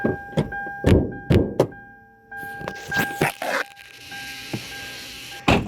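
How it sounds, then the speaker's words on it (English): Hollow metallic bangs on the hood of a 1997 Toyota Camry XLE with a 3.0-liter 1MZ-FE V6, struck by hand in a string of loud, close thumps while a steady tone hums underneath. "I'm gonna have to set the phone down and bang on the hood"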